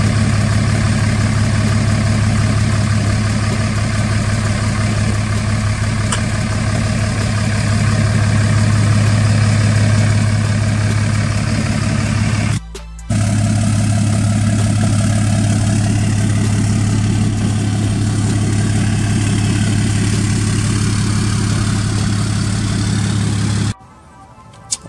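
A 6.7 Cummins diesel truck engine idles close by with a steady, deep low rumble. It runs loud and unbroken for the whole stretch apart from one brief dropout midway and another near the end.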